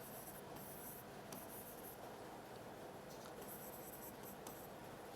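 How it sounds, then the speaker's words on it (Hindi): Chalk or marker writing an example sentence on a board in a classroom, short scratchy strokes coming in bursts over a steady hiss with no talking. "दूसरा एग्जाम्पल यहां लिखता हूं मैं"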